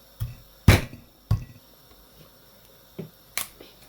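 A coconut being cracked open by hand, a series of sharp hard knocks, several spaced irregularly and one especially loud, close and dry with quiet gaps between.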